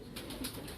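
Red lace-patterned pigeons give soft, low, continuous cooing, fairly faint and close, with no talk over it.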